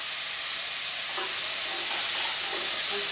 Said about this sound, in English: you add in the carrots.